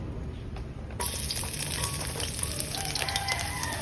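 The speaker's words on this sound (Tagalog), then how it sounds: "Okay, saute the garlic, onion," Garlic and onion sautéing in a pan, a steady close sizzle that jumps louder after about a second as food hits the hot oil, with faint stirring.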